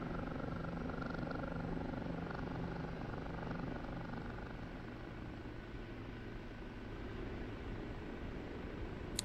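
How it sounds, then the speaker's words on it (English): An OH-58D/AH-64D helicopter in the DCS flight simulator, flying an Afghanistan map, gives a loud, steady rotor and engine drone that fills the whole stretch without letup and with no voices over it. "get this helicopter back from George here"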